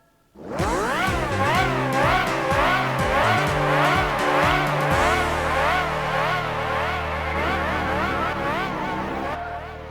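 Race cars on a track in Gran Turismo 4, loud engines roaring and shifting up through gears with rising, wavering tones, sustained close engine whine throughout.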